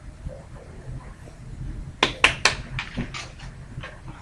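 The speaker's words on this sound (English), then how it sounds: "and then clap your hands." A child claps hands three times in quick succession, sharp and close, followed by a few softer scattered claps in an otherwise quiet room.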